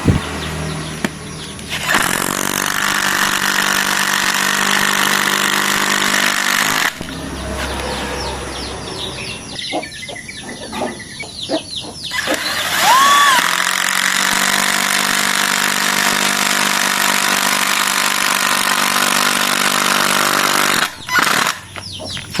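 A Dongcheng cordless impact driver at power level 2 drives a 4-inch screw, giving a loud, close, sustained buzzing whir broken by a few short gaps and rattling impact bursts as the screw seats.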